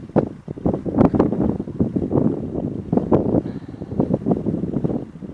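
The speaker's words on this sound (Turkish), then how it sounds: "Acayip yan rüzgar var." Strong gusty crosswind buffets the microphone in loud, uneven rumbling bursts during a Skywalker model airplane's first flight, with a faint motor whine briefly in the background.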